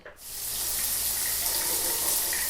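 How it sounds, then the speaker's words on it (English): Shower water starts and then runs in a steady, close hiss and spatter, loud and continuous, with no voices. "it's time to hop in the shower"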